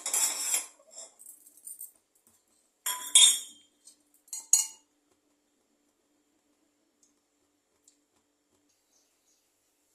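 A kadai set down on the stove in a kitchen: a few short metallic clanks and clinks in the first five seconds, close and sharp, followed by near silence.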